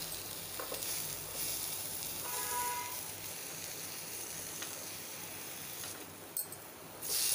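Paneer and bread toasting on a hot pan for a veg club sandwich give a steady soft sizzle with a few light scrapes and a louder clatter at the end, with no voices.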